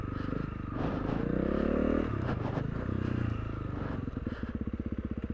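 Big-bore Honda CRF300L dual sport motorcycle picks its way over a rocky boulder section, its single-cylinder engine putting and revving up and down, close and steady, with scrapes and clatter from the rocks.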